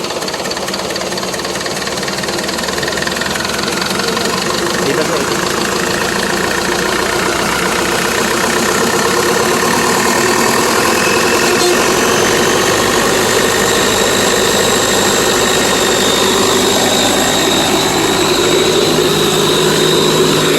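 An Eicher 1080 truck's diesel engine runs steadily nearby, a loud, rough, knocking rumble that holds constant without letting up.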